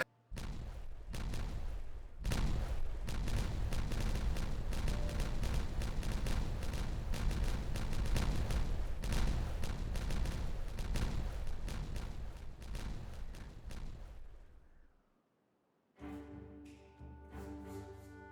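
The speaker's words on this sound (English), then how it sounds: "All beavers love a good explosion." Explosions in the beaver city-building game Timberborn: a long, dense roar of rumbling blasts and crackling booms that holds for about fifteen seconds before dropping out, with a brief tonal game sound at the end.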